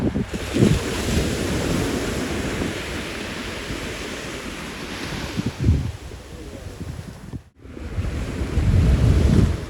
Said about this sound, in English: we are walking down the beach with people